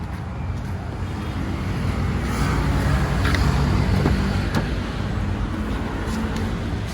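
Nissan X-Trail T31 with a 2.5 engine runs steadily after starting, a broad, even rumble that swells slightly mid-clip, with faint outdoor ambience and no talk.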